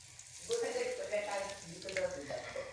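Mustard seeds and asafoetida frying in hot oil for stuffed brinjal curry give a faint, steady sizzle beneath someone talking.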